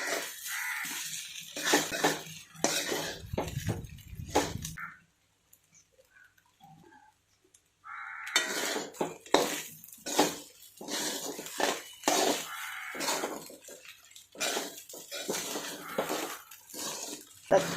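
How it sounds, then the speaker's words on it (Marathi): Sabudana khichdi with peanut powder being stirred in a pan makes a run of close scraping and clinking spoon strokes against metal. A few seconds of near silence break it, and then the stirring resumes. "खिचडी मस्त अशी परतून घ्यायची बराच वेळ"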